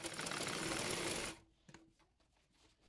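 A sewing machine runs steadily, stitching the folded sleeve hem of a round dress, a continuous close whir for over a second before stopping, followed by faint handling clicks.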